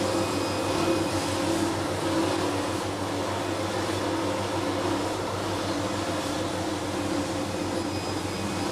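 An energy-saving air compressor for a laser cutting machine runs with a steady, loud mechanical hum and airy roar, continuous and unchanging throughout with no talking.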